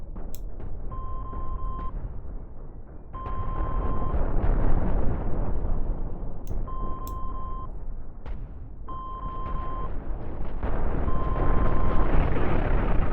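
Spaceship explosions in the space combat game Cosmoteer as an enemy ship splits in two: loud, sustained rumbling blasts and bursts layered with repeated electronic beeps over about thirteen seconds.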